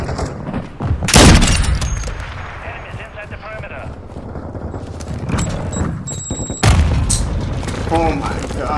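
Grenade explosions in Call of Duty MW2, two loud close booms a few seconds apart amid game noise, with a player talking between them.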